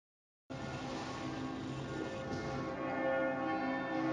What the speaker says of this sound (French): le mec il a lancé les cloches, mais ça fait 2 heures que ça dure